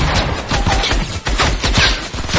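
Rapid bursts of gunfire in the video game Fortnite, dense crackling shots fired in quick succession, loud and close with no pauses.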